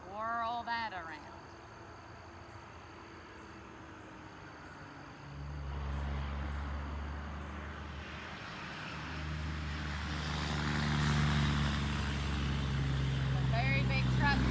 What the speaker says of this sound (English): It's a very big truck for this road.